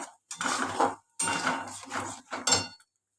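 Bottle gourd peel paste stirred with turmeric in a pan, heard as a few bursts of scraping and clinking utensil against metal, separated by short pauses.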